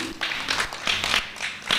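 A church congregation claps for the pastor during a service, a quick burst of hand claps at an uneven rhythm across a short stretch.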